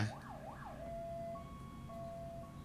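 A rescue vehicle siren arriving at an accident scene wails with rising and falling sweeps, then shifts to a steady two-tone pattern, distant and fairly faint.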